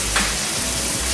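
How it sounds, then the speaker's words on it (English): Mushrooms and garlic sizzle in olive oil in a pan, a loud, close, continuous hiss and crackle over a low background rumble. "So we got that good sizzle going on."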